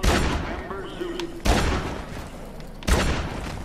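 Three heavy gunshots fire in the video game Dead Rising 3, spaced roughly a second and a half apart, each a loud sharp burst with a short decaying tail over faint game ambience.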